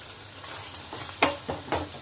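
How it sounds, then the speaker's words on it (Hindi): A semolina mixture with tomato sauce and chilli sauce sizzles in a pan while being stirred, with a steady frying hiss and three louder scraping stirs near the end. "तो 1 मिनट तक हम इसे सॉस के साथ भी भून लेंगे।"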